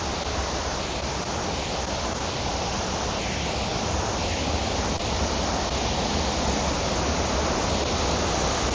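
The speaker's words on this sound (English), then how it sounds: "You can really hear the water thundering over as it's crashing on the rocks below." Water from the spillway at Hawk Falls thunders onto the rocks below in a steady, unbroken roar that fills the foreground, with no voices.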